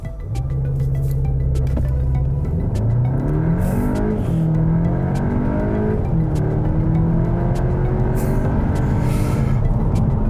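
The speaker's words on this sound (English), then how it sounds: "And the engine noise, it just sounds great." Volkswagen Arteon Shooting Brake R-Line engine accelerating hard from standstill, a loud continuous roar whose pitch climbs steadily through several gear changes, close and alone with no talk.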